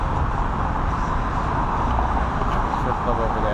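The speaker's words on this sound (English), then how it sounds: "I hope you can hear this this video over the sound of the cars behind us." Steady road traffic noise from cars passing behind a person sitting on a van outside a pet supermarket in Tampa, a continuous loud broadband rumble under the person's talking.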